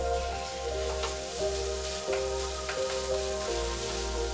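Ground beef frying in oil in a sauté pan with onion, garlic and ginger, a steady close sizzle with occasional scraping stirs, no voices.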